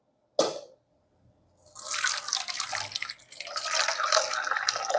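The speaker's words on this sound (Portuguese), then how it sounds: "Nós vamos coando. Saiu bastante soro." Whey from homemade paneer-style white cheese pours and drips through a small sieve, starting with a single splash, then a steady close trickle of liquid.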